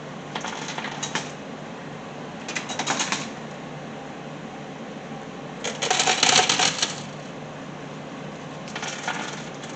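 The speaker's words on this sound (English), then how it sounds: "Printer's still working good." Small printer running out a batch of Bitcoin satoshi giveaway tokens, giving several bursts of rapid clicking, rattling print-head and feed noise over a steady low hum, the loudest burst in the middle.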